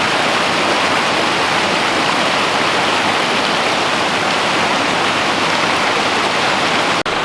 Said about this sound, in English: we've come to a little creek crossing